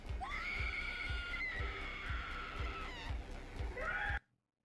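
A high, wavering scream from a character in an animated episode, sustained over a steady rhythmic thumping score, rising again before cutting off abruptly.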